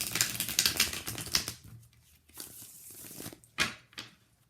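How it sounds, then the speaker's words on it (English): Crisp riffling and flicking bursts as a deck of cards is shuffled, with short rapid rustles separated by brief pauses. "So we're going to shuffle first."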